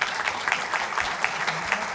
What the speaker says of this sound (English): some applause for Dr. Mačák.